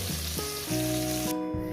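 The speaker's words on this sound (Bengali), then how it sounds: "তো বন্ধুরা আমার মাছ ভাজা হয়ে গেছে" Small rohu fish fry in hot oil with a steady, loud, close sizzle and hiss. A low hum runs beneath it.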